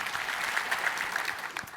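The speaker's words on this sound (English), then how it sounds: "feel free to clap at any time." An audience claps for a couple of seconds, a dense patter of many hands at an even level with no voices.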